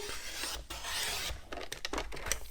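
Scissors or a blade cutting through folded paper for a cube-shaped perpetual calendar craft, a close, rasping slice lasting a couple of seconds, with no talking.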